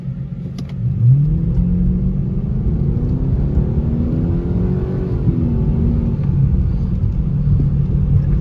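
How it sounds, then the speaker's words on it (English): A 2003 Lincoln LS V8 with Flowmaster exhaust rumbles deep and loud at close range, holding a steady low drone with a brief rev near the start. "Dude, I love the exhaust."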